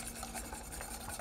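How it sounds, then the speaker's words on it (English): An egg yolk and sugar mixture is slowly whisked into hot milk and cream for a raspberry cream pie, a faint, continuous scraping and swishing with a quick, even rhythm. "whisk our egg yolk sugar mixture into the milk and cream"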